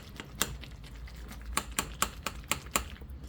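A knife cuts through a pan of baked ziti, making a series of sharp clicks and scrapes as the blade taps the pan, irregular and close, with a faint background hum and no talking.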